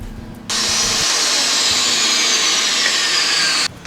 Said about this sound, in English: The Dewalt saw will make the 3 cuts in about 42 seconds.